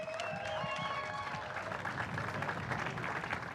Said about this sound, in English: Ladies and gentlemen, please be generous in your applause.